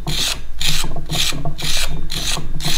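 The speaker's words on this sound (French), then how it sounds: "Ensuite je viens creuser à l'intérieur. Toujours avec des mirettes tranchantes." Sharp loop tools scrape and carve into clay while hollowing out the inside of a dome-shaped piece, giving repeated close rasping strokes in a steady rhythm, loud and alone.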